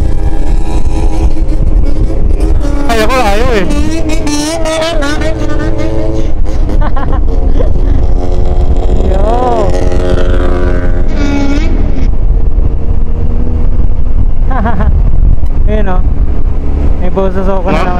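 Bosozoku motorcycles with modified mufflers rev loudly in a long pack, their engine notes rising and falling in rhythmic revving patterns throughout, with people talking nearby over the din.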